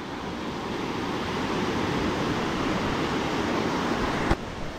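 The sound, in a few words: water rushing under pressure at Bhatsa dam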